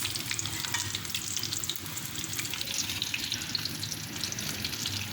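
Chicken pieces frying in hot oil for a KFC-style broast give a steady, dense sizzle and crackle that fills the whole stretch, close and constant with no talking.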